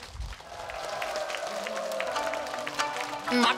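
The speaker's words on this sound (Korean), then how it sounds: "박수 주세요" A studio audience at a Korean trot music show applauds in a steady wash of clapping that builds toward the end, with a singer's voice and backing music running underneath.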